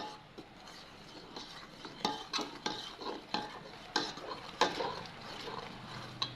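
Flour batter is stirred in a pan, a faint continuous scrape and rub with a rhythmic series of soft clinks and knocks from the spoon against the pan, with no voices.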